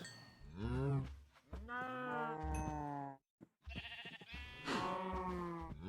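Cows on a Minecraft video game farm give repeated drawn-out moos and bleating calls in several separate bursts with a short silent gap in between, clear and fairly close.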